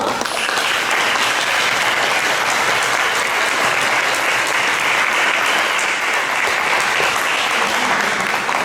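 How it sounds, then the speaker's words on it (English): An audience at a school board of education meeting applauds an honoree. The clapping is dense, steady and continuous from many hands, filling the room. "if you will give Miss Claire Gray a round of applause"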